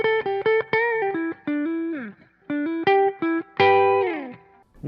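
Single electric guitar notes picked on a Wolfgang in the middle pickup position through an EVH 5150 Iconic amp, a run of separate clean-to-driven notes with short gaps, ringing harmonics and a brief pause midway, played alone and up close.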